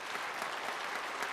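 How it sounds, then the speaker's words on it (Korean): A Korean church congregation gives a brief burst of applause, a dense and even patter of many hands clapping together that holds steady for its short span. "한번 박수 한번 해주세요."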